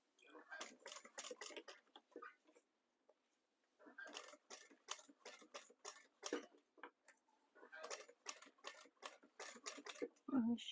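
Sewing machine stitching a bag seam at the seam allowance, quiet rapid ticking in bursts separated by short pauses, close by, with a brief voice near the end.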